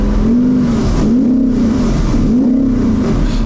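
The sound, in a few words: BMW M2 car engine revving in neutral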